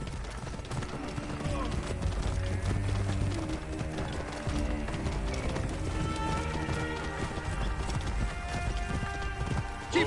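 Horses gallop in a steady clip-clop through the Assassin's Creed Origins video game during a chariot-race raid, hooves pounding loudly over music and background game sound.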